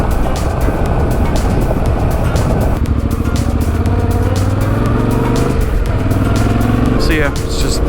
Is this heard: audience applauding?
no